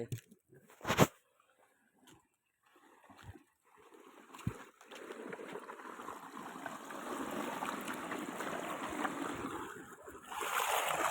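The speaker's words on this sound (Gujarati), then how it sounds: "આપણે મેટ મોટર ચાલુ કરી દીધી છે પાણી હવે આવી ગયું" Scattered knocks and clatter at first, then a steady broadband rush of water gushing from a motor pump pipe on a farm builds up and continues to the end.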